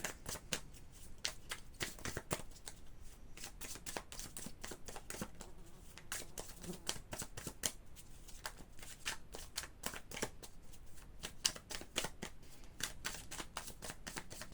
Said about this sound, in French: On va d'abord prendre une carte pour votre état d'esprit général.